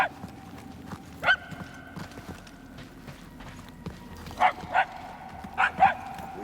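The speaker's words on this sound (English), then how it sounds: "The barks are getting louder," Dog barks echo through halls in the video game Marvel's Guardians of the Galaxy, several sharp distant barks in scattered pairs over low ambient game sound.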